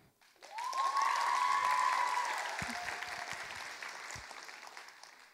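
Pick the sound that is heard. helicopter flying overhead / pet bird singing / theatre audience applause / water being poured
theatre audience applause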